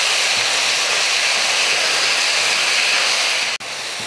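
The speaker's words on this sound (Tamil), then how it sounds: "நம்ம கையில் நல்லா ஒரு கைப்பிடி அளவுக்கு புதினா இதை வதக்கிறோம்" A handful of fresh mint sizzles in a pan with softened tomatoes, onion and garlic for a tea-stall style spicy chutney, making a steady, close hiss with no pauses that cuts off briefly near the end.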